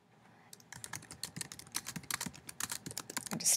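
Rapid typing on a computer keyboard while making Google Slides, a close, irregular clatter of keystrokes that starts after a brief pause and continues steadily, with no talking.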